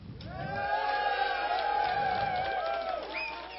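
Audience at an awards event cheering for a team called anti-Oddball, several voices whooping and shouting together in one sustained swell that fades near the end.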